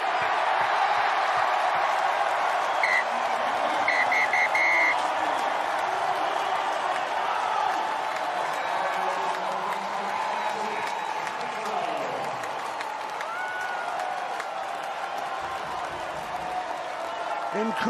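Stadium crowd at a women's rugby sevens match in Hong Kong roars, cheers and applauds a famous win, a broad sustained wall of noise with whoops and a commentator talking over it throughout.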